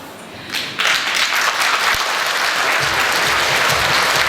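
Applause from an audience at a Khakass song awards ceremony, starting thin and swelling into full, steady clapping after a moment.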